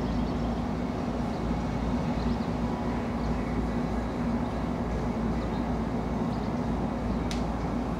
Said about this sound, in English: There comes a train coming in.